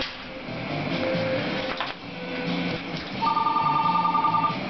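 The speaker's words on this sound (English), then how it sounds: "Gotta answer the phone." A telephone rings indoors with an electronic trill that grows clearer toward the end, over a busy background of household noise and faint music-like tones.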